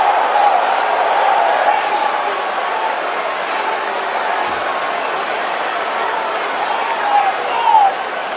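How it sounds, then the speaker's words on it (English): Wrestling arena crowd cheering and applauding, a constant distant roar of voices with scattered whistles and a brief louder swell near the end, heard under someone talking. "you can hear the crowd in the background"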